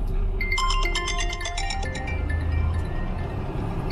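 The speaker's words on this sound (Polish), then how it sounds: "Już dzwoni telefon." A phone ringtone plays in a repeating electronic pattern over steady low rumble, like inside a moving vehicle.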